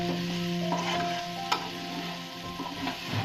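Okra fry stirred in a pan with coriander powder, a brief close sizzle with a couple of spatula scrapes and clinks against the pan.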